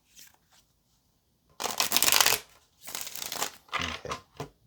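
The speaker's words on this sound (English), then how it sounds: "Let's get one more shuffle." A deck of tarot cards is shuffled up close in several quick riffling bursts, each a papery flutter of a second or so, with short pauses between them and no voices.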